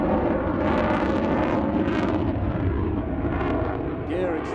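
A Boeing F/A-18 Hornet performing an airshow display at Farnborough, a loud continuous jet roar that swells and fades slightly as it passes, with a commentator speaking over it.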